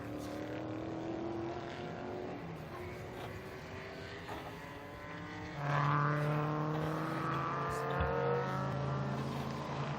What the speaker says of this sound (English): There are plenty of cars on track